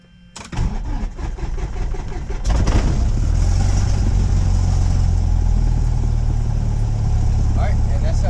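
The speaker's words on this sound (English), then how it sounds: "that's how you successfully start the engine" A small airplane's piston engine cranks briefly, catches with a loud burst, then settles into a steady, close, rumbling idle, with faint talk underneath.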